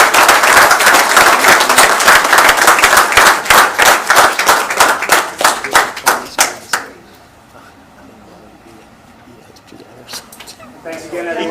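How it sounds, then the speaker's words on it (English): Dense applause fills a borough council meeting, loud, close and sustained, then thinning into slower scattered claps before fading out, with a voice speaking briefly afterward. "have a big round of applause for"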